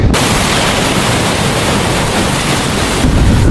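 Strong gusting wind beside the churning Mississippi River buffets the microphone in a loud, constant broadband rush that swells slightly and never lets up.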